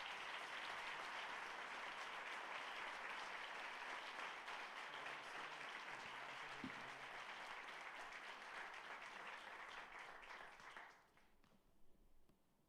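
A church congregation at a celebration service claps in a long, steady round of applause that carries on for about eleven seconds before dropping away to quiet.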